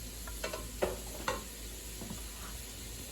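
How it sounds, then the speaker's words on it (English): Carrots, onions and garlic sautéing in a pot of cabbage soup, with a soft steady sizzle and a few scattered scrapes and clicks of stirring close up, no talk. "we're going to saute this a little bit until they start to get tender and the onions get clear"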